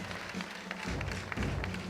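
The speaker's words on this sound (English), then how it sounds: "So that alone deserves a round of applause." Quiet applause from guests at a 25th anniversary staff luncheon, a soft dense patter of many hands sounding somewhat distant and low in level, with a few duller thuds mixed in.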